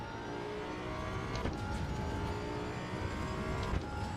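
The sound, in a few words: Datsun 240Z engine in Assetto Corsa EVO video game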